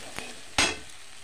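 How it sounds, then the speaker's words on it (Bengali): A spatula stirs ground spices, turmeric and red chilli, through mutton pulao in a pan: two short scraping sweeps, the second louder and longer, over a low background with no talk. "দিয়ে আবার ভালোভাবে নাড়াচাড়া করব।"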